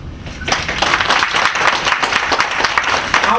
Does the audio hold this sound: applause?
yes